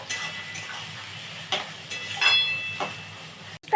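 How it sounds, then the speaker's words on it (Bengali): Vegetables with ginger frying in a pan for veg fried rice, giving a steady soft sizzling hiss with a few faint clinks and stirring taps, and no talk. "একটু ভাজা হোক বন্ধুরা।"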